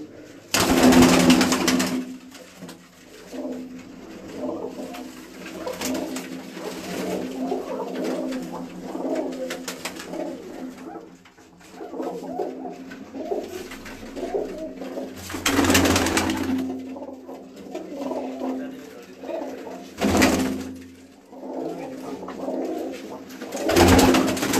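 Prized racing pigeons of a famous breed coo repeatedly on a rooftop loft in a village near Gujrat, with soft, rolling calls that come and go across the scene alongside some wing or handling noise.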